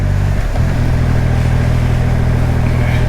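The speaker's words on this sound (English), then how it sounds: "I don't know why I'm kicking it down gears." A Triumph Rocket 3 R motorcycle shifts down through the gears, its engine a loud, close, steady throbbing rumble with a brief dip and catch near the start as the gear changes, then settling into a continuous low drone.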